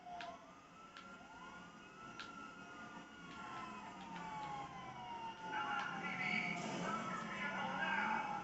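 Several police sirens wail and overlap as patrol cars chase a garbage truck, rising and falling continuously and growing louder toward the end.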